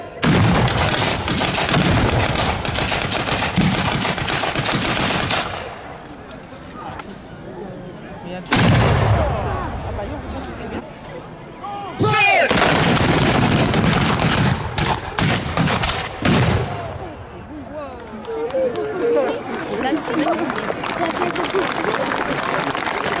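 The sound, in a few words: historical reenactment artillery cannon fire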